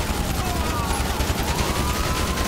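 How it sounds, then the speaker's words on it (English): Dense, continuous gunfire during a GTA 5 cop chase involving a Bugatti Bolide, a steady rattling barrage over engine roar, loud and close throughout. "shots were fired"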